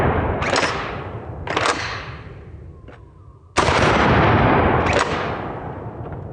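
A pump-action trench gun shotgun fires four loud, sharp blasts, each with a long rolling tail; a brief quiet gap follows the second shot before the last two come close together.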